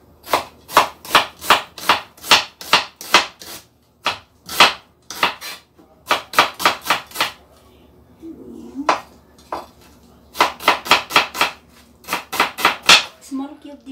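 Onion chopped into small cubes on a cutting board for minced beef with tomato, with fast, steady knife strikes that come in close bursts and break off for short pauses.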